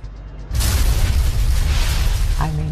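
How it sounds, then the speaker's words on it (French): An explosion sound effect aboard an airliner in flight bursts in suddenly as a loud, broad roaring blast that sustains for a couple of seconds before a voice briefly cuts in at the end. "Quand tout à coup, on entend une explosion."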